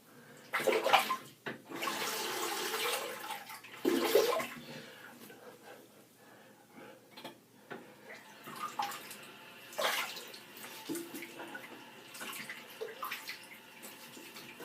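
Tap water runs to rinse a single-edge safety razor at a sink, loud splashing bursts at first, then softer trickling and intermittent splashes.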